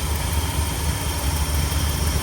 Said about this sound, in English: I could hear a little exhaust leak here from the exhaust manifold on this side